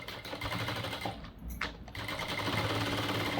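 A sewing machine stitches a zari thread design in a rapid, steady mechanical chatter, briefly pausing midway before resuming at an even pace, with no talking.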